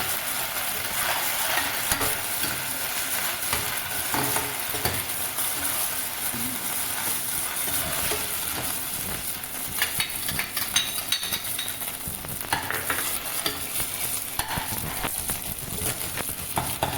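Ginger garlic paste frying in a pan with marinated chicken while being stirred, a steady close sizzle running throughout with occasional scrapes and clinks of a utensil against the pan.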